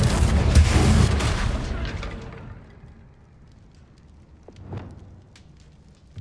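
The Confringo fire spell in the Hogwarts Legacy video game bursts in a loud booming explosion that quickly fades into crackling, with a smaller second blast a few seconds later.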